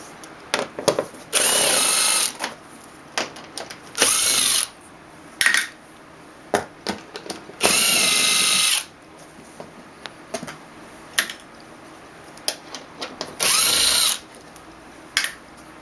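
Power drill backing Phillips screws out of the radiator cover on a BMW E36, in four loud bursts of whirring about two seconds each, separated by quieter clicks and handling noises.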